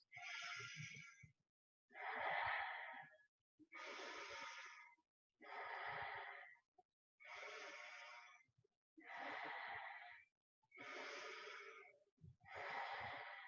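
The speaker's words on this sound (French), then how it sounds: "Respiration intense." Strong, deep breaths during an energizing yoga session: eight long, evenly spaced inhales and exhales, each rushing and close, separated by brief silences.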